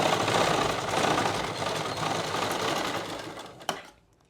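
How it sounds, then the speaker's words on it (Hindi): A sewing machine stitches a pocket onto palazzo pants, running with a steady loud buzzing rattle that slows and stops near the end, followed by a sharp click. "यहाँ एक कच्चा बखिया लगा देंगे"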